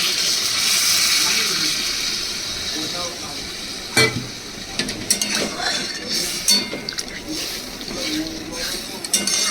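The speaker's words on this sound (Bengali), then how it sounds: "আমি কিন্তু এবার এর মধ্যে আমি জল দিয়ে দিচ্ছি।" Water poured into a simmering vegetarian curry in a pan, a steady hiss and sizzle throughout with a few clinks of a utensil against the pan partway through, close and moderately loud.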